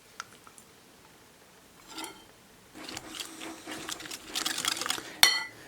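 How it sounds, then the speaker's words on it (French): A spoon stirring a mascarpone mixture for a caramel flan in a bowl, soft scraping and clinking strokes close by, growing busier toward the end with a sharp clink. "Là, il faut bien mélanger pour essayer d'éclater donc tous les petits morceaux de mascarpone."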